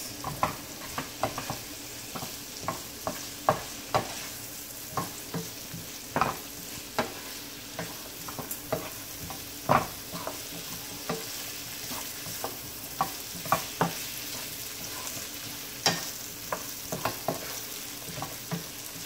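Curry pineapple shrimp stirred in a hot pan, a continuous sizzle with regular scraping and clinking spoon strokes repeating every second or so, close and fairly loud throughout.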